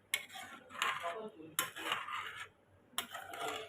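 A spoon stirs a raw cashew curry with water in a pan, making four short, rhythmic scraping strokes up close, separated by brief pauses, with no voices.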